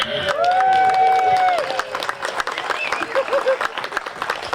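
Audience applause at a community poetry festival and birthday party, clapping from a crowd rising and then thinning, with a voice and whoops over it.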